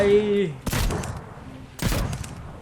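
Two loud cannon blasts a second apart in the video game Trailmakers, fired from a ship at sea, following a short tonal sound effect.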